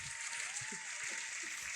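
A crowd at an esports awards show applauds the best-team runner-up for Rocket League, steady clapping heard faintly in the background under a low hum.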